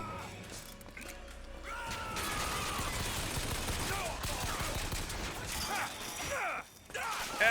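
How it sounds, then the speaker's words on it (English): Gunfire in the shooter Bioshock Infinite, heard as a dense, sustained stream of clattering shots and crashing impacts over several seconds, fairly loud with a brief dip near the end. "why does the shooting in this game just feel so weird?"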